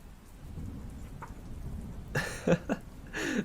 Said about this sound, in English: is it actually raining? I swear it sounds like rain. I have rain ambience